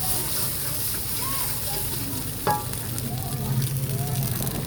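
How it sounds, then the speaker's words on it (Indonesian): An egg frying in oil for seblak gives a steady, fairly loud sizzle throughout, with a short clatter in the middle. Faint voices are heard beneath it. "Iya, telur digoreng dulu."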